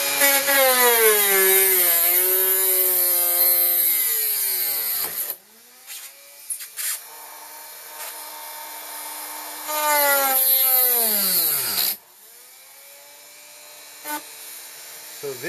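A high-pitched Dremel rotary tool whines loudly as it cuts into metal model railway track, its pitch dipping and rising under load, with two long cuts separated by a quieter pause.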